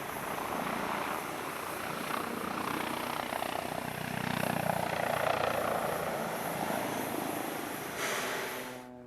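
A Bo 105 helicopter flies at an airshow, its engine and rotor making a faint, distant drone that swells slightly midway and then eases off.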